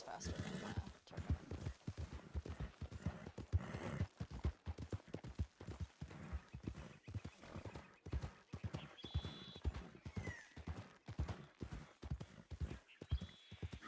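Horse hooves clip-clop in a quick, regular rhythm, loud and close, with occasional whinnies in the brief gaps between strides.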